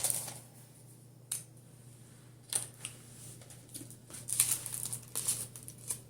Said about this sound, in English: I'm going to probably cut it out of the package